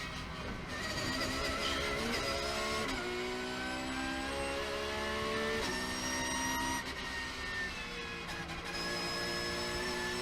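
A Porsche race car driving through a corner on a damp circuit, its engine note loud and steady with pitch rising and shifting between gears, heard up close.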